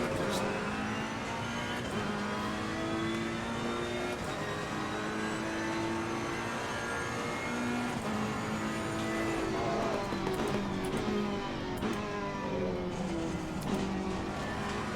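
Ferrari 488 GT3 EVO race car accelerating around Imola in Assetto Corsa Competizione, a continuous loud engine note with rising harmonic sweeps through gear changes, steady throughout with no talk.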